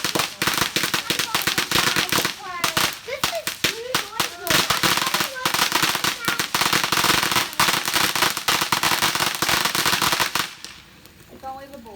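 Fireworks and firecrackers going off in a dense, rapid crackling barrage of loud, close bangs for about ten seconds, then suddenly dropping to quieter background noise, with people's voices faintly heard between blasts.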